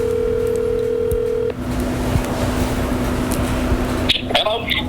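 A telephone line hums with a steady tone, then stops as a call is placed. The line carries on with a low hiss, and near the end a few short touch-tone beeps or voice fragments come through.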